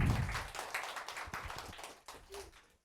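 A church congregation clapping along at a Sunday afternoon worship service, with scattered, fairly faint hand claps in a loose rhythm that trail off into near silence.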